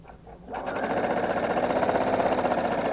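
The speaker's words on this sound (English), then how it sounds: "Can they hear me when the sewing machine's going?" A sewing machine starts after a brief quiet moment, then runs steadily with a fast, even mechanical stitching rhythm.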